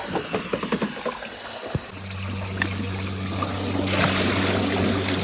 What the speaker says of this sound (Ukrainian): ось вона в цю нору, водичка утікає